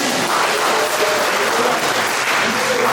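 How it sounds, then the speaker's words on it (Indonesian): A church congregation applauds during a sermon, a dense, steady wash of many hands clapping that fills the space continuously and loudly, with no voices above it. "Tepuk tangan."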